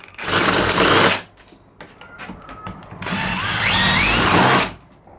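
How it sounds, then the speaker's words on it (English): A power drill with a larger bit whirs in two loud bursts, grinding into a metal door lock to enlarge a hole, with a short quieter pause of mechanical scraping between them. "get a bigger size drill bit and we're going to make this hole a little bit bigger"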